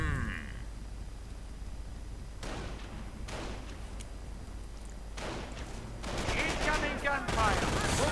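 Video-game battle audio with bursts of gunfire, including MG42 machine gun fire, in broadband volleys around the middle and a denser, louder stretch near the end, over steady background ambience.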